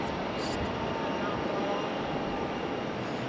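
An arriving airliner approaches Raleigh-Durham International Airport, its engines a soft, steady distant rumble with no change in level across the few seconds.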